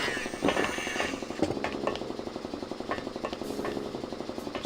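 A grinding dental-style drill in the Grim Fandango video game, a steady mechanical whine and rattle running continuously throughout with brief sharper bursts, fairly loud and close.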